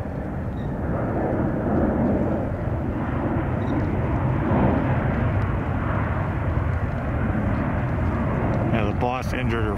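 A departing airliner climbs out from SFO airport with a loud, continuous, broadband jet roar that stays strong and steady from start to finish.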